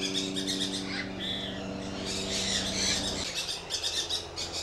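Bird calling in a bird-filled setting, a run of chirping and tweeting calls repeating over a steady low hum and background noise, fairly close and moderately loud.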